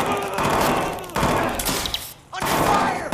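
Heavy gunfire during the final mission of Watch Dogs 2, loud sustained volleys of shots close by with a brief lull before firing resumes, no speech.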